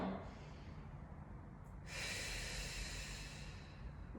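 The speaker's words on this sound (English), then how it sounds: "Pause here and just take a breath or two." Slow, audible breaths in and out during a postpartum exercise routine with a resistance band, a steady airy breath followed by a louder, hissing exhale, close and alone.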